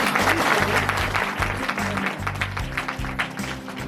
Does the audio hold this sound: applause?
yes